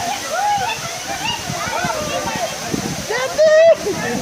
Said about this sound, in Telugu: waterfall back side